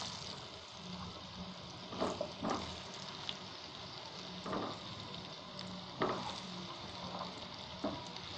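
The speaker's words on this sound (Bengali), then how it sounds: "কড়াইতে তেল গরম হয়ে আসলে পটলগুলো দিয়ে দিই।" Pointed gourd (potol) slices frying in hot oil in a wok, a faint steady sizzle with occasional louder crackles and stirring clatters at irregular moments.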